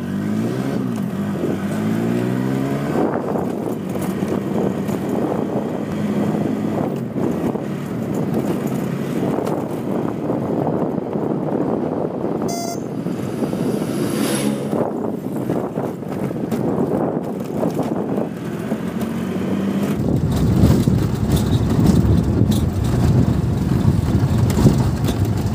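A car's engine and road rumble heard from inside the moving vehicle on a drive in Tripura, a steady low drone mixed with wind buffeting that grows louder near the end.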